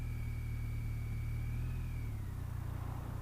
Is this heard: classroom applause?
no